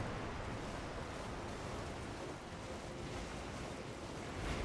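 Rushing waterfall in the game Elden Ring Shadow of the Erdtree, a steady, dense roar of falling water that stays loud and even throughout, with no talk over it.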